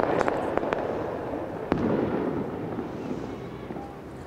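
Warning fireworks set off by lookouts in a Rio de Janeiro favela as police arrive, heard as a distant crackling barrage with a few sharper bangs over a rumbling, fading background.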